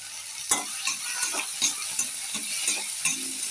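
Chopped tomatoes with coarse rock salt frying in a pan, a steady loud sizzle with a sharp stirring scrape near the start and softer spoon scrapes recurring throughout, no voices.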